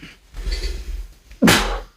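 A single sharp sneeze bursts out near the end, loud and close, after a stretch of quiet room murmur.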